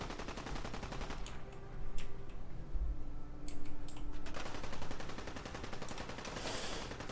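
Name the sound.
pipe pistol gunfire in Fallout 4 video game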